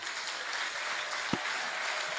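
An audience claps at a church gathering, a steady patter of applause throughout with one sharper clap standing out partway, no voices on top.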